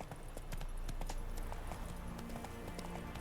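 In The Witcher 3, Geralt's horse Roach clip-clops along with a steady run of close hoofbeats. A dull background hum sits under the hooves, and no one speaks.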